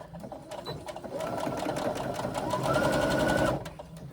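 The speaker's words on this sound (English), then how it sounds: "Bring it to your machine and stitch a 3/8 inch seam across" Sewing machine stitching a seam, a fast, even mechanical whirr that starts after a moment, runs for about two and a half seconds with a slight rise in pace, then stops.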